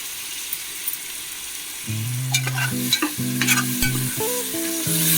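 Garlic paste fries in a pan for egg biryani while a utensil scrapes and stirs it, a close steady sizzle broken by clinking metal strokes and ringing tones from the pan, with no talk.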